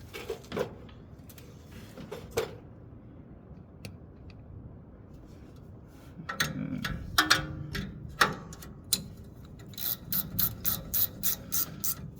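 A hand ratchet tightens brake caliper bracket bolts on a car. Scattered clicks come first, then rapid, fairly close runs of ratcheting clicks with metallic knocks in between. No talking is heard.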